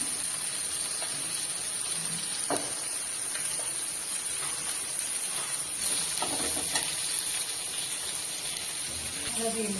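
Garlic and onion fry with spices in a village kitchen, a constant bright sizzling hiss with a few clinks and stirring sounds, and faint talk in the background.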